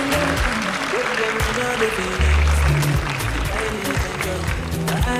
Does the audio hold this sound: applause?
yes